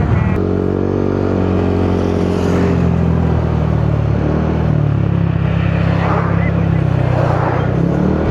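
A motorcycle comes up from behind on a road in Atok, Benguet, its engine note rising and passing close over the steady drone of the vehicle being ridden in.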